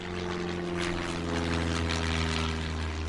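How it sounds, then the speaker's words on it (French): Propeller airplane flying, heard as a steady droning engine hum with a constant pitched buzz and airy noise, moderately loud and unchanging throughout, without talk. "Amelia Earhart, la première femme à traverser l'Atlantique en avion."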